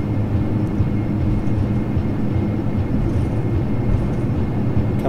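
Fully loaded Majestic Dash 8 turboprop airliner rolling for takeoff in the FSX flight simulator, a steady, loud low engine roar with a faint high whine that holds throughout.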